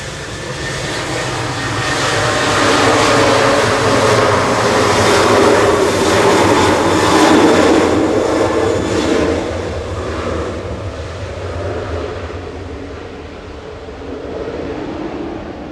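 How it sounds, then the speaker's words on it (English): A Singapore Airlines Airbus A350-900 touches down on the runway at Manchester Airport with a loud, swelling jet roar that peaks midway, then eases into a lower, steady rumble as the aircraft rolls out. "just touching down on 23 right now is Singapore, flight 302 from Singapore"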